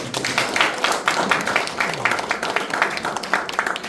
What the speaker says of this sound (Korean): 전선영 수석 부회장 후보에게도 다시 한번 박수 보내주십시오.